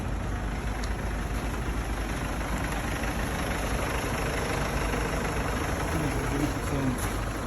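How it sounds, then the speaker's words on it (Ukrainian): An old ambulance engine idles steadily throughout, a constant low rumble with a faint high whine, nearby and unchanging. "Машина працює."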